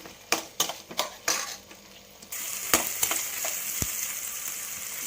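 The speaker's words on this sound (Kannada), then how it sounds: "ಅದ್ರ ಜೊತೆನೆ ಶುಂಠಿ ಬೆಳ್ಳುಳ್ಳಿ ಕೂಡ ಹಾಕೋತೀನಿ. ಹಾಕೊಂಡು ಒಂದು ಸ್ವಲ್ಪ ಫ್ರೈ ಆಗಬೇಕಿದು" Ginger and garlic fry in a pan for a mushroom gravy, first with several sharp clatters of a utensil against the pan, then a steady close sizzle with a few scrapes and taps.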